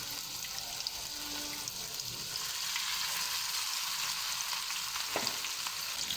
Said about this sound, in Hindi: फ्राई पैन में ऐड करेंगे चपली कबाब को। बिल्कुल लो फ्लेम पे हम इसको फ्राई करेंगे